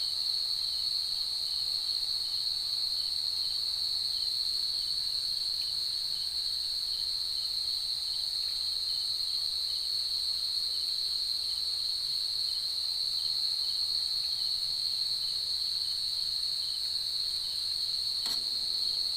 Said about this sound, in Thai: เสียงจิ้กกุ่งอะค่ะ จิ้กกุ่ง